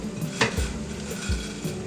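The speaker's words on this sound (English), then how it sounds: "I have a pot of water boiling." Pot of water on a home stove for spaghetti, a steady low bubbling and rumbling simmer with a soft utensil clink or two over it, close by and with no talk.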